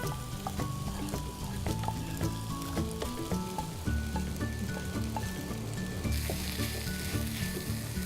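Cooked chana dal fries in onion masala for biryani, a dense, steady sizzle with occasional stirring scrapes, close up and without talk.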